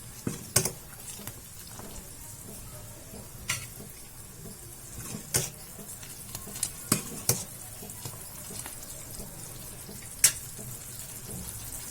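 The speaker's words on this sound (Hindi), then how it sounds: "जब तक हमारा कढ़ी उबल रहा है" Kadhi curry simmering in a pot, with a soft steady bubbling and sizzling bed and scattered sharp clicks and taps of utensils throughout, moderately faint and close.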